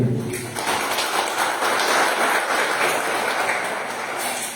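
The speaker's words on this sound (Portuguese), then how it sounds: "Uma salva de palmas para ele." Applause rings out in a council chamber session to welcome a former councillor to the table, a dense, steady crowd clapping that fills the room without a break from start to finish.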